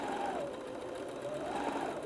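A sewing machine stitches fabric for a teddy bear or animal template project, giving a steady, fairly loud mechanical whir throughout with slight rises and dips in pitch, alone without talk.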